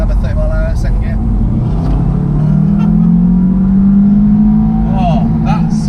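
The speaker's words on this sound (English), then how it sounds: "Oh, that Subaru sound." Subaru Impreza WRX engine pulling hard uphill in second gear at around 30 to 40 mph, a steady rising drone heard from inside the car, with people talking over it.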